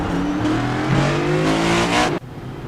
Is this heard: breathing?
no